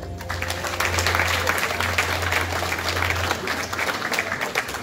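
An audience at the Złote Sakiewki 2023 gala applauds steadily, a dense wash of clapping hands sustained for several seconds with a low hum beneath and no voices on top.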